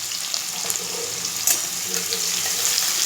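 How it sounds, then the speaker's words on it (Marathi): Onions sautéing in oil with curry leaves for a whole masoor curry, a continuous bright hissing sizzle, close and fairly loud, with faint scraping movements and no talking. "आता आपल्याला यात कांदा घालायचा आहे। चांगला परतून घ्यायचा आहे कांद्याला।"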